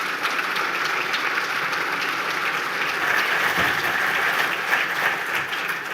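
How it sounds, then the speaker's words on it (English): A conference audience gives a speaker a round of applause as he comes to the stage, with thick, sustained clapping that holds steady and fairly loud for the whole stretch. "Nice round of applause for Matt."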